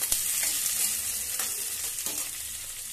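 Onion and finely chopped garlic sizzle in hot oil for a dal khichdi tempering, a steady close crackle with occasional light stirring taps and no voices.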